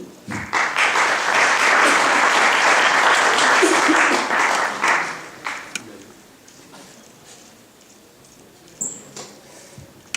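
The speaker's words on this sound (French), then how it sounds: "On peut l'applaudir." An audience at a French lecture claps to welcome a historian and speaker, a full round of applause for about five seconds that then thins out and dies away into near quiet.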